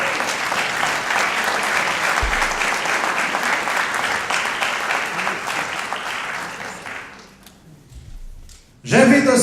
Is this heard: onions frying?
no